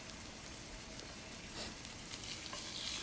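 Food sizzles and crackles steadily in a hot frying pan while frying Korean jeon (pan-fried fritters) with mushrooms, close and continuous, with occasional stirring scrapes and brighter pops toward the end.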